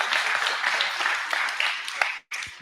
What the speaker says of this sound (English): let's give a round of applause for our nurses.